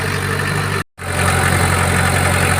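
A car engine idles steadily with a low, continuous hum, cutting out for a brief moment before resuming at the same level.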